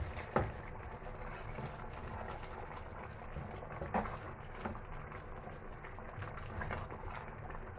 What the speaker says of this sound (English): Be careful when stirring it